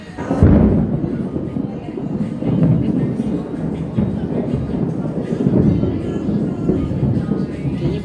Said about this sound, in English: Lightning, thunder,